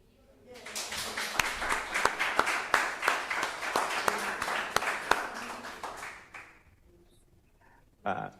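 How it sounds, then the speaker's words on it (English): Audience applause at a conference talk, a burst of clapping that starts quickly, holds strong for several seconds, then fades out, followed by a brief noise at the end. "a little applause to them"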